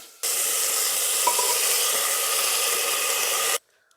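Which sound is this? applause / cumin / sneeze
cumin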